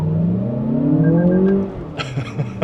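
A Lexus RX500h F Sport in sport mode accelerates hard, its engine note climbing steadily in pitch up close and then easing off, followed by a few brief knocks.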